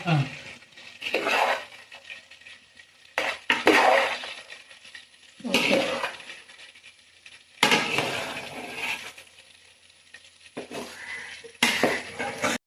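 Chicken and rice for a homemade biryani are mixed in a metal vessel, with bursts of scraping, clinking and stirring separated by quiet pauses, along with faint voices.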